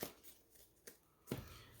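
A deck of game cards being shuffled by hand, soft papery riffles and taps in a few short bursts, close but quiet.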